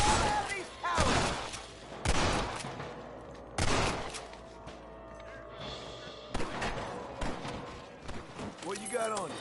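Scattered gunshots crack out in a Red Dead Redemption shootout, several distinct bangs spaced a second or two apart between shouted character dialogue.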